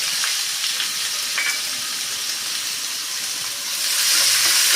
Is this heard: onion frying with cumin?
yes